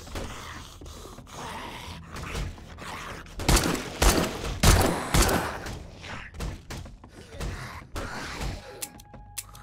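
Sharp bursts of gunfire from a video game, several loud shots clustered midway with thuds and mechanical clicks around them, no talking.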